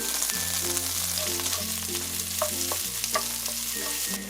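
Garlic, hot pepper and ginger fry in avocado oil for a seafood stir-fry over medium-low heat, making a continuous close sizzle and crackle above a low steady hum, with no talking.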